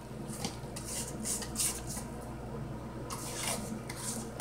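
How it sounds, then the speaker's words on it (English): A spatula scrapes around a mixing bowl of sour cream pound cake batter, giving soft, wet, squishy scrapes and light clinks in short bursts, fairly close and moderately quiet. "I'm gonna scrape my bowl down again."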